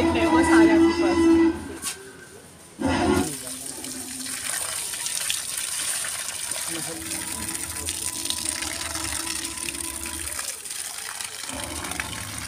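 Water gushes from a hose or pipe as a man waters an area at Chattbir Zoo in Zirakpur, a steady rushing flow with brief pauses and a voice talking over it.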